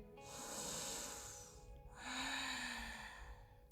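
A yoga practitioner takes slow breaths during a beginner session on a mat, two long, soft airy breaths in a row with a short pause between them, close and quiet.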